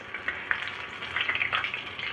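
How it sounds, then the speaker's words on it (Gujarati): Onion deep frying on low heat until crispy for a blooming onion, a short burst of close bubbling oil sizzle dotted with small pops and crackles. "એકદમ ક્રિસ્પી થાય ત્યાં સુધી આપણે ડુંગળીને તળવાની છે"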